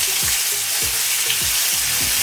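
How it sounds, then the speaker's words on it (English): Onions sauté in a hot pan with a loud, dense, unbroken sizzle, and faint rhythmic scraping as they are stirred. "So we're going to add the onions in and get those nicely sauteed up"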